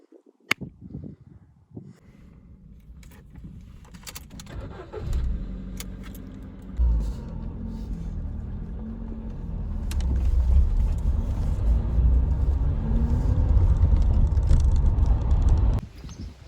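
A car heading to Thor's Cave gives a steady, fairly loud road and engine rumble that builds and runs for most of the stretch, with a jangle of keys near the start and the noise cutting off abruptly near the end.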